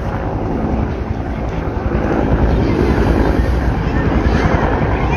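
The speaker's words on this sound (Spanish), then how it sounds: "Les comentamos que son dos helicópteros." Two police helicopters arriving at a football field in San Lorenzo, a loud continuous rotor and engine roar mixed with heavy wind buffeting on the microphone, steady and close throughout.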